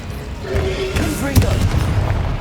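A fire spell blast from Hogwarts Legacy gives one deep, booming burst over a rumbling background, with a brief tonal whoosh just before the impact.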